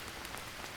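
Rain in the Green Hell survival game, a steady hiss of falling rain pattering on surfaces, brief and even, with no talk.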